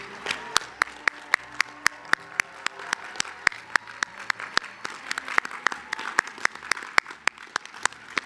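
Audience at a national coalition academy graduation forum applauds, a bed of crowd clapping with one or two close, sharp individual claps standing out in a fast steady rhythm throughout.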